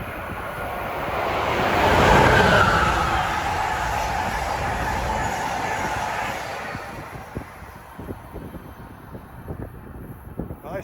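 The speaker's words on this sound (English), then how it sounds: "That was Amtrak 94 for Boston by at 4:45" Amtrak train 94 bound for Boston passes at speed through New Brunswick, New Jersey, a broad rushing roar that swells over the first two seconds, then fades into clattering rhythmic wheel beats.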